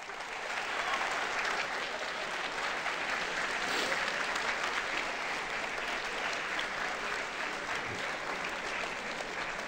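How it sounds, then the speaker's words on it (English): An audience at a school presentation gives a guest speaker a round of applause, a full, sustained wash of clapping from a large group that stays loud and even throughout without tailing off. "Let's give a round of applause"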